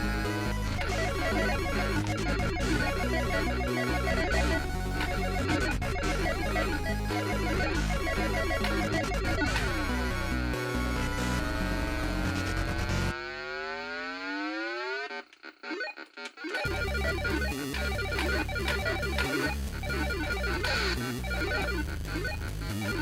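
Dense, buzzy electronic shooting sounds from the Vectrex game Bedlam pile up into a chaotic blare, with sweeping tones and a brief near-silent gap before the noisy effects resume.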